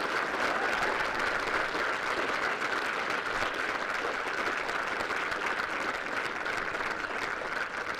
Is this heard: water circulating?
no